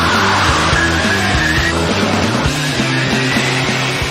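A loud, steady electric motor whine as a small G-Wiz electric car launches and accelerates in a drag race, with no talking.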